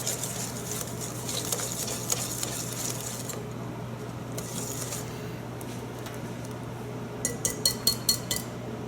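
Egg is stirred into a chocolate mixture in a bowl, soft scraping and stirring with light clinks of utensil against the bowl, ending in a quick series of sharp taps, near and alone.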